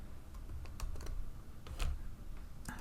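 Quick, irregular clicks of fingers typing on a computer keyboard while entering code in a programming lesson, close and fairly soft, with no talking.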